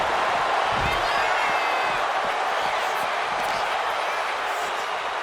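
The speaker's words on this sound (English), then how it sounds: "This crowd is thunderous right now." A wrestling arena crowd in WWE 2K25 roars loudly and continuously during a gauntlet eliminator match, a dense wall of cheering with scattered thuds from the ring beneath it.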